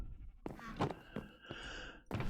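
Several Minecraft sheep bleat in short wavering calls, close and fairly clear, spaced out over a quiet farmhouse setting with no talking.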